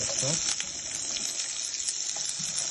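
Sliced onions fry in a kadai while chicken cafreal is being made in a home kitchen, giving a steady, close, bright sizzling hiss that runs unbroken throughout, with a voice faintly speaking underneath.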